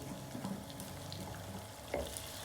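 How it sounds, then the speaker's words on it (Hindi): Tomatoes and green chilies frying in a pan with lightly golden onion, garlic and ginger, a steady close sizzle with faint stirring clinks and no talk. "मैं टमाटर और ग्रीन चिली डालूँगी"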